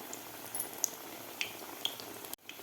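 Bread and onion pakoda frying in hot oil, a soft steady bubbling sizzle with faint crackles, fairly quiet and alone.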